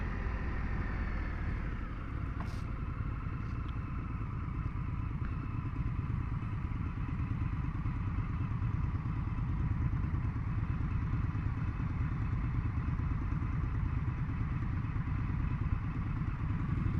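An Indian FTR1200 S motorcycle engine drones steadily throughout a ride in El Cajon, California, with a loud continuous low rumble and no breaks.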